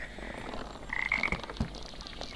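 A toad croaks in the Wonderbook Book of Potions game on PS3: a short, moderately loud run of tonal croaks over a steady background bed, followed by a single low thump.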